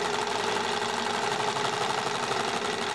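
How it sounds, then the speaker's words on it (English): A zig-zag sewing machine runs steadily while stitching a 3/8 inch seam, a continuous close mechanical whir with a fast, even rhythm and no pauses. "I'm going to sew a 3/8 inch seam all the way down my seam"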